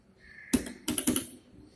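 Keys pressed on a microprocessor trainer kit while a program is entered: a single sharp tap followed by a quick cluster of three or four clicks, close and distinct against a quiet room.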